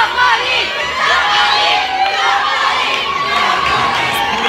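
A cheer squad for a dance competition team chants and shouts loudly and steadily in a packed crowd at the final of a dance contest, with cheering sustained throughout.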